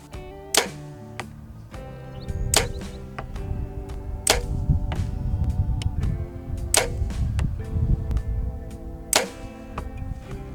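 Several sharp, close thwacks of arrows shot from about 48 yards striking a target, spaced a few seconds apart, over a low rustling background.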